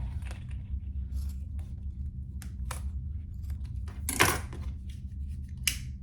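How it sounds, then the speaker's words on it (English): Scissors snip through excess zipper tape on a clear pencil pouch, giving a few quiet cuts with one sharper, louder snip near the end over a low steady background hum. "Now I will cut off this excess zipper tape."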